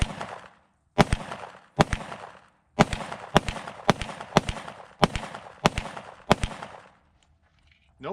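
A Tisas 1911 Night Stalker 10mm pistol fires Blazer brass ammunition outdoors, ten loud sharp shots with reverberating tails: two spaced shots, then a steady string of eight, with no talking.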